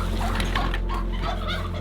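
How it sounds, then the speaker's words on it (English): Turkeys, two hens and a male, gobble close by on a farm, a continuous burbling, warbling gobble over steady low background noise. "So we have turkeys, 2 females and a male"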